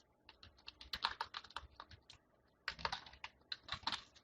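Rapid clicking keystrokes on a computer keyboard while C# code is written, quiet and close, in two bursts with a short pause between them and no talking.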